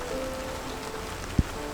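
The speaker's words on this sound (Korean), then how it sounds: "비가 온다." Rain falls in the Philippine countryside as a steady soft patter, with one sharp drop-like tap near the end and a faint tone in the background.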